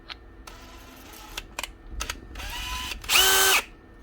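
A DeWalt cordless drill with a steel chuck, set to high speed in drill mode, gives several short whirring bursts, then one louder, sustained high-pitched spin that stops abruptly. It is close and there is no talking.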